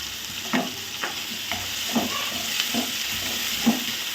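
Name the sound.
tomato and onion frying in oil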